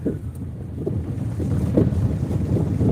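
A car rumbles over a bumpy road with a steady low, churning roar. Wind buffets the microphone throughout, loud and close, with no clear talking.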